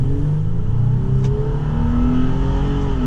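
A 2020 Toyota 4Runner TRD Off Road with a V6 and five-speed automatic pulls away, its engine rising in a steady, close rumble that builds as it accelerates, with no talking.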